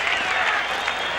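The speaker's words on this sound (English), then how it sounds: "that brings the crowd alive here at Tampa Stadium" Large stadium crowd of about 50,000 cheering and applauding at Tampa Stadium during a 1985 Chicago Bears at Tampa Bay Buccaneers football game, a dense, steady roar of voices and clapping throughout.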